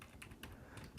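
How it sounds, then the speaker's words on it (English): Very faint, quick keystrokes on a computer keyboard, a handful of light clicks in about a second. "I'm going to go ahead and type in our demo"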